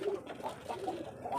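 Local pigeons on a small pigeon farm coo softly in a few low, repeated, rolling calls, faint and fairly close, with no voices over them.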